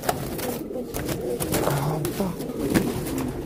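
Pigeons coo softly in a loft, repeated low throaty rolling calls close by, with wing flutters and shuffling and a voice calling to them intermittently.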